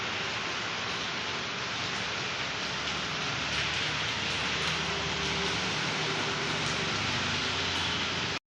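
Heavy morning rain near Panambur beach in India pours down as a dense, even hiss that holds steady throughout, loud and close, with no voices.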